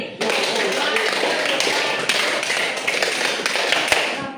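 Classroom of students clapping in a counted rhythm, a loud sustained patter of many hands with accented beats throughout, voices mixed in.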